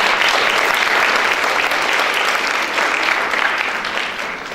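Audience at a primary school fashion show in Viljandi applauds a choreographer and dance teacher, a loud dense wash of clapping from a full hall that holds steady and tapers off slightly at the end.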